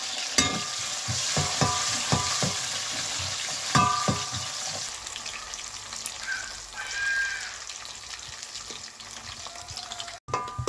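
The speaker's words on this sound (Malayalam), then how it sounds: "നമുക്ക് ആദ്യം കുറച്ച് നെയ്യ് ഒഴിച്ച് ഈ അണ്ടിപ്പരിപ്പും മുന്തിരിയൊക്കെ പൊരിച്ച് കോരി എടുക്കാം" Cashews and raisins fry in hot ghee with a steady sizzle, broken by a few quick clinks and scrapes of a spoon early on and quieter bubbling later, with no one speaking.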